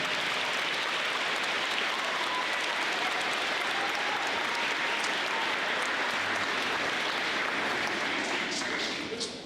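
A full room of audience members at a school awards ceremony applauds steadily, a thick, rain-like wash of clapping that holds level and eases slightly at the end.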